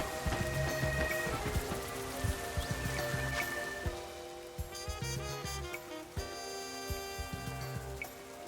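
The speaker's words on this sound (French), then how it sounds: "Ah, il pleut." Rain falls in the Pokémon Legends Z-A video game, a steady patter of drops on surfaces beneath layered game music and tones, continuous throughout.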